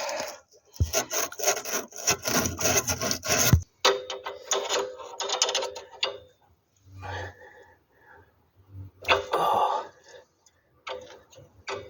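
Sandpaper rubs over a rear brake part on a Hillman Super Minx in quick, raspy back-and-forth strokes, first in a dense run, then in sparser bursts with quiet gaps.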